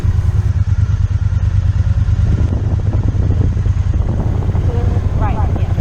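Motorbikes run ahead of a ride, their engines holding a steady, close, low rumble for the whole stretch, with wind buffeting the microphone.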